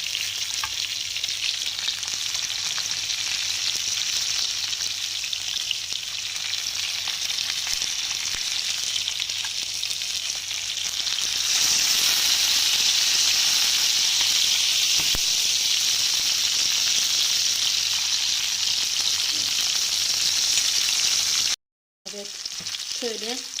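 Chopped onions sauté in a hot pan for a chicken dish, giving a steady, loud sizzle and hiss that runs unbroken close by, swelling slightly midway before a brief cutoff near the end.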